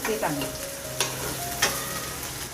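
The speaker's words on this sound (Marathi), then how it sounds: "इकडे फोडणीसाठी तेल कांदा आणि मिरची टाकली आहे आणि लसूण पण टाकले एकसाथ" Onion, chilli and garlic frying together in oil for a tempering, a close, steady sizzle with two or three sharp scraping stirs and a faint tonal hum underneath, no speech.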